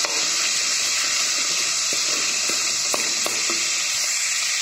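Green chili paste frying in a pan for pumpkin sabzi, a loud bright hissing sizzle held steady throughout, broken by a few sharp pops and crackles, with no talking.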